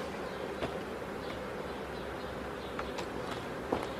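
Honeybees hum steadily from a crowded, populous hive frame during queen rearing, a dense close buzz with a few brief sharper clicks and no voices.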